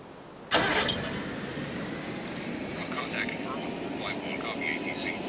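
A vehicle engine roars to life suddenly and keeps running steadily in a video game, a loud continuous drone with faint higher whines layered over it.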